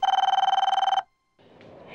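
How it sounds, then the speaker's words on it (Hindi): A telephone bell rings in rapid repeated trills for about a second, then stops; faint room noise follows. "शायद मोबाइल फोन कंपनी वाले का फोन है।"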